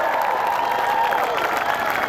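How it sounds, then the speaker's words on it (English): A protest crowd at Parliament in Wellington claps for farmers, a dense, continuous outdoor applause with scattered voices mixed in. "Put your hand up and clap for the farmers."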